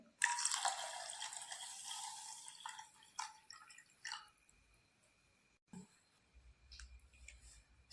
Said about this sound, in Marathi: आता यात आपण पाणी घालतोय.